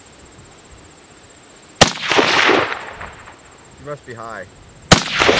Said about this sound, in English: Keep shooting at that white one.